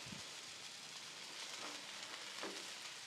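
Onions and jalapenos sizzle on a Blackstone griddle set to low heat, a steady, moderate frying hiss running the whole time with soft crackles and no talking.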